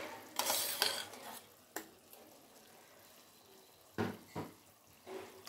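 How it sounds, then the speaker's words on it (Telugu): Chicken mixed with ground gongura paste in a pot gives a few distinct stirring scrapes and clinks of a spoon against metal, separated by a faint low simmer. "బాగా కలబెట్టేద్దాం."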